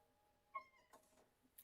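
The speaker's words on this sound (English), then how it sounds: "My cat is on my synth." A cat sitting on a synthesizer lets out one short, quiet meow in an otherwise still room, followed by a faint click at the end.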